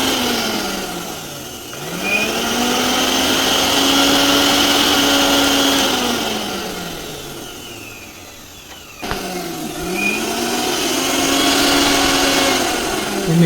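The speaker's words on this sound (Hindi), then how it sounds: "चलिए मैं अब आपको मिक्सर भी इस पे चला के दिखला देता हूँ।" An electric mixer grinder running on a battery-less inverter: a loud, close motor whine that spins up, holds a steady pitch, winds down, then starts again.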